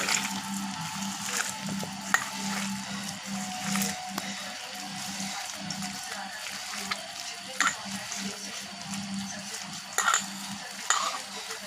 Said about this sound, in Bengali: আলু আর সোয়াবিন একসাথে করে মেখে নিচ্ছি আমি।